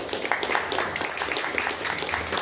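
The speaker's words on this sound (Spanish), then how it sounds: "Vamos a darle por favor un aplauso" Audience applause for a local chronicler at a history talk, continuous clapping from many people, fairly even and sustained throughout.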